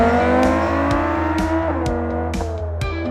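Gavril GD808 race car in BeamNG driving hard and sliding through a corner, with a steady high engine drone and sharp repeated clicks or gear ticks over the continuous tone, loud and close.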